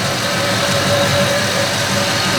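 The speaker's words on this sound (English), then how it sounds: "As you can see, the car is running." A 1989 Ford Mustang LX 5.0 engine idles loudly and steadily up close, a constant low rumble with a faint whine on top, no voices.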